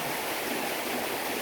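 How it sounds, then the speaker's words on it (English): Water rushes steadily through the channels of Dunster Water Mill, spilling down and onto its water wheels: a dense, continuous, fairly loud roar with no pauses and no talk. "most of the water is disappearing down here, whereas a little bit is going across there onto the other water wheels"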